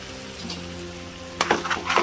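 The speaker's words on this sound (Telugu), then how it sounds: "సిమ్లో పెట్టి మూత పెట్టి ఒక్క 3 నిమిషాల వరకు అసలు మనం ఏం చేయకుండా ఉడకనిద్దాం" Chicken curry simmers in a covered pot on a low flame, giving a soft, steady bubbling sizzle close by, with a few brief louder crackles near the end and no talk.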